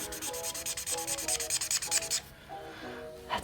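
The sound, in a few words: marker chisel nib rubbing on paper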